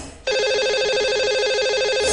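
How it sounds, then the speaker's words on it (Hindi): A telephone ringtone starts abruptly and rings steadily for about two seconds as a radio show calls a listener, loud and alone with no talking. "लगा लेते हैं इन्हें अब कॉल और करते हैं बात।"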